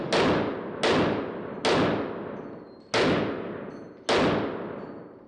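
An H&K VP9 pistol fires five sharp, loud shots at an uneven pace, each crack ringing out with a decaying tail before the next, with no voices over them.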